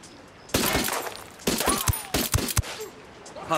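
Bursts of gunfire from Ghost Recon Wildlands: a quick volley, then a run of separate sharp shots with short gaps, loud and close, set over faint background game ambience.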